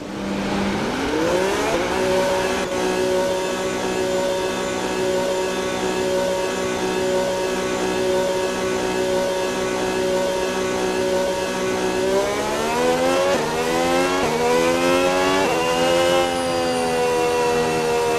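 Red Bull RB22 Formula 1 car in the F1 26 game at full throttle on the Chinese Grand Prix circuit, a loud, continuous high-pitched engine whine that climbs steadily and then rises again through later gear changes, with no voices.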